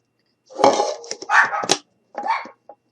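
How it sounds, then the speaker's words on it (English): Dogs bark at a mail carrier from inside a home, with several loud, close bursts in three quick clusters separated by short pauses. "My dogs are barking at the mail carrier."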